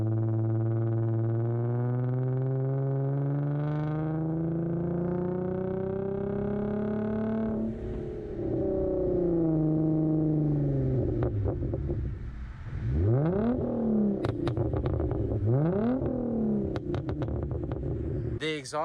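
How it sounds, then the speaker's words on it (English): A Hyundai Genesis Coupe 3.8 V6 exhaust burbles deeply at idle, then revs up in several sharp blips that rise and fall, loud and close with some rumble. "The exhaust for this car, I'll play a clip."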